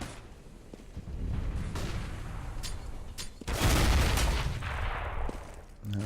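Gunfire from an M4A1 rifle in a Counter-Strike match, with bursts of shots and a heavier, louder barrage midway, layered over steady game background noise.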